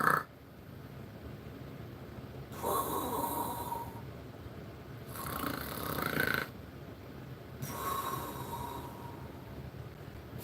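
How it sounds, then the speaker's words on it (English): A pet cat snoring at night, three long rasping breaths spaced a few seconds apart, close and moderately loud against a steady quiet background hum. "this little guy's over there snoring like a son of a gun"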